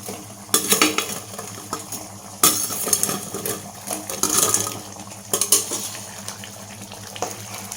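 Bottle gourd koftas drop into simmering gravy in a pan, with a bubbling sizzle under repeated scrapes and clinks of a metal spoon against the pan, close up.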